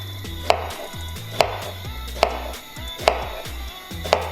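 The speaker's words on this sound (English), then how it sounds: "We make some vertical cuts." A knife makes vertical cuts through a red onion on a board, giving five crisp, evenly spaced chops about a second apart. Soft background music plays underneath.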